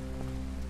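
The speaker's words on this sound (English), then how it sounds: "They're still in the rain!" Steady rain pouring down in the video game Detroit: Become Human, a dense continuous hiss with low rumbling ambience, unbroken and fairly loud.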